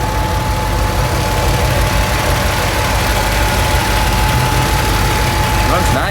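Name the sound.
1951 Ford flathead V8 engine with Tri-Power idling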